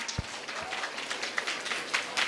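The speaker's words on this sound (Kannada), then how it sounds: "ಜೋರಾದ ಚಪ್ಪಾಳೆಯ ಮೂಲಕ ಪ್ರೋತ್ಸಾಹಿಸಿ" A crowd applauds a Bharatanatyam dance performed by a PU college student at a temple festival event, a faint, distant spatter of clapping with a couple of low thumps near the start.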